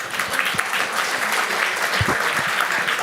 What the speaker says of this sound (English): Please, can I have a warm applause?